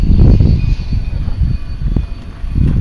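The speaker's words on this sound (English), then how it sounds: "And the next train from Osier is coming." A steam train with passenger coaches pulls into a station platform with a loud, continuous rumble and a low, heavy roar that rises and falls. A faint whine sits above it. Nobody speaks.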